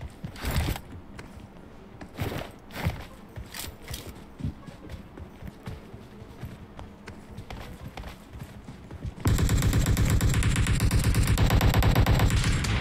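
PUBG Mobile gunfire: scattered sharp shots early on, then a dense, loud, continuous burst of rapid automatic fire that fills the final few seconds.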